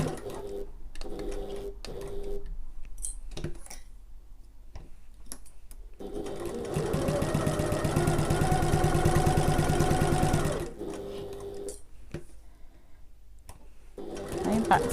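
A sewing machine stitches around the edges of a sling bag, with scattered short stitching bursts followed by a long, fast, loud run of several seconds, then quieter handling noises.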